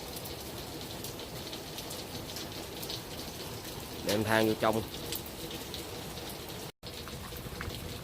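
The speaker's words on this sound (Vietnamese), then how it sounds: "Mưa tầm tã luôn." Dense, steady rain pours down hard and close, a constant hiss, with a brief voice speaking partway through.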